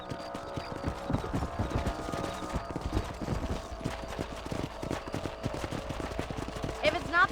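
Horse hooves clip-clop at a steady trot while riding on a ranch in the video game Red Dead Redemption, close and continuous, with a voice talking over the hoofbeats and a brief higher sound at the end.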